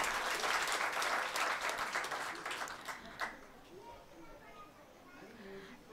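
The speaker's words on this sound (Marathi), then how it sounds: "एकदा जोरात टाळ्या होऊन जाऊ द्या." Applause from an audience at a cultural program in a Sevagram camp rings out loudly, then fades. Scattered claps and murmurs continue quietly under the room noise.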